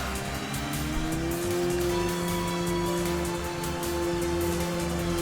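A race car's engine drones at a steady high rev while the handbrake is pulled into a skid in the racing video game Enthusia, with tire noise blending into the loud, continuous engine tone.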